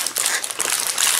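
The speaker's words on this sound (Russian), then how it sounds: "Ну что, будем еще пакет открывать?" Plastic packaging from a Lego Duplo Mickey Mouse and Minnie Mouse birthday parade set being opened, giving a short, continuous crinkling rustle close by with a few sharper crackles.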